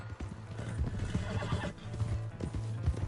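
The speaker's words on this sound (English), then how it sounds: "Hey, that's my horse!" A horse in the video game Red Dead Redemption 2 neighs loudly and close while its hooves clip-clop in a quick, busy rhythm throughout, with no talk.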